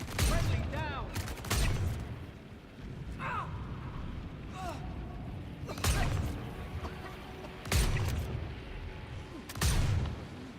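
Video game gunfire comes in sharp, loud bursts roughly every two seconds, with chattering shots and whistling effects between them over a steady background rumble.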